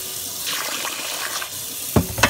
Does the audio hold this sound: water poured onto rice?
yes